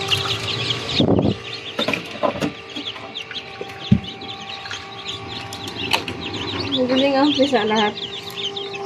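Newly hatched chicks peep in a crowded hatch while hens cluck close by. High chirps run steadily throughout, with a louder clucking burst early on and a person talking over part of it.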